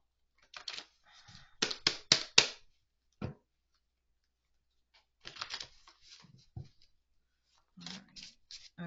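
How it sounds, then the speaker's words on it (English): Index cards shuffled by hand in quick papery bursts: a cluster of sharp riffles early on, a lone snap, then two more short flurries of shuffling with soft rustling between, close and fairly quiet in a still room. "Let me shuffle these."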